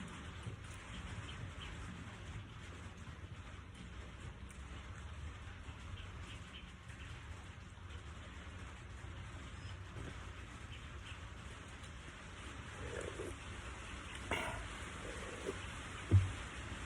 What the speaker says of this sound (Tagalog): Nako, umaambon na.